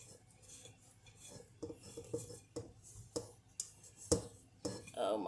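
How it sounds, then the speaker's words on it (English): A spatula scrapes and taps against a mixing bowl while lemon brownie-cookie batter is worked loose from the bottom, giving a series of irregular close scrapes and clinks with faint background sound. "It's sticking to my spatula. Trying to scrape the bottom out."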